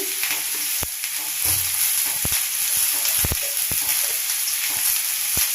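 Small bele fish curry with turmeric and salt sizzling and frying steadily in a pan, broadband hiss with sharp clicks and stirring scrapes, close and continuous, no voices.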